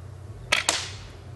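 A glove gun fires steel quarter-inch ammo in two quick sharp snaps about a beat apart, close and crisp against a quiet background hum.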